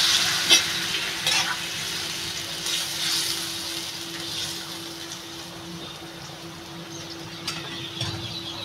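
A taro-stolon vegetable curry pours into a pan of garlic fried until slightly charred, producing a steady sizzle with a few sharp stirring clatters, close and alone.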